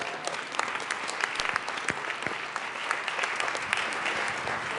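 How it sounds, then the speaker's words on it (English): Steady, full applause fills the Colorado House of Representatives chamber during a legislative session, many hands clapping together at an even level. "if we could give them a round of applause for coming down and taking their time for their day with us"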